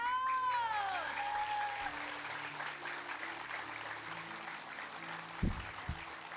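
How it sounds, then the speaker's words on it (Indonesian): An audience applauds on a comedy variety show, a soft, steady patter of clapping heard fairly far off. Tonal sounds ring out at the start, and a few thumps land near the end. "Tepuk tangan sekali lagi boleh untuk Mas Firdaus."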